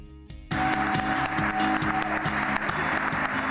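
A crowd applauds STAR students and teachers at the Mississippi Economic Council's 70th annual meeting. After a brief quiet lead-in, the clapping swells and holds steady, mixed with loud rhythmic walk-on music.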